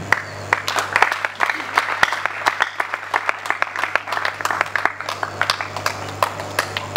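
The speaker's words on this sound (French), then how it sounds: "Nous vous demandons de les applaudir" An audience applauds the newly installed ISTA student coordination committees at a ceremony, a steady spread of clapping with sharper individual claps standing out throughout.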